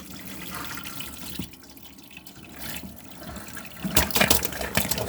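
Water rushes through the plumbing of an FC Bailey Unicorn Madrid campervan after a valve is opened, a soft hiss and gurgle in the pipes that grows louder and splashier near the end.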